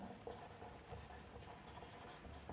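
Quiet scratching of a teacher writing on a board during an English grammar lesson, soft intermittent strokes close by with no speech.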